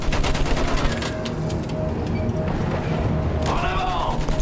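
Loud, dense machine gun fire in a Battlefield 1 trench battle, a continuous rattling barrage mixed with booms and shouting voices.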